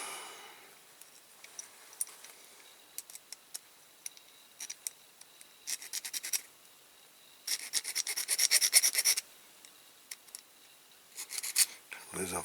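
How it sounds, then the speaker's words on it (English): An old wheel from a Corgi Massey Ferguson 65 toy tractor is hand-filed in short bursts of close, dry rasping strokes, separated by quiet pauses and small ticks, with brief talking. "As I'm filing the old wheel here."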